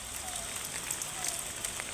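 Heavy rain pours down in Kamareddy, a steady, dense hiss of drops hitting surfaces that holds without a break throughout.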